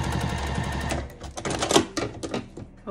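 A sewing machine backstitches a seam on a zipper pouch with a rapid, close mechanical chatter for about a second, followed by scattered clicks and handling knocks.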